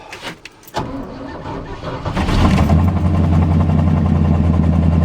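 A carbureted 1978 Chevrolet K20 truck starts on a cold winter day with one turn of the key, a short crank that catches into a loud, steady idle rumbling close by.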